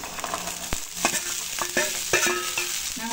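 Pomegranate and chili go into a hot frying pan for a pomegranate poriyal, with sizzling frying and repeated scraping, clattering stirring strokes close up, with no voices.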